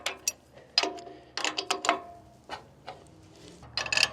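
Grade 8 bolts on the side plates of an Eastonmade FG60 grapple being worked loose with a hand wrench, giving a series of sharp ratcheting clicks and metallic ticks in uneven bursts, close and fairly loud with no talk.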